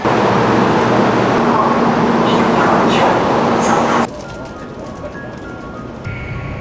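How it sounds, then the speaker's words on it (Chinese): Inside a Taiwan high-speed rail train riding between Taipei and Taichung: a loud, steady rumble and rushing hum that suddenly drops to a much quieter cabin hush partway through. "我们这一次呢要坐高铁，不是徒步环岛的"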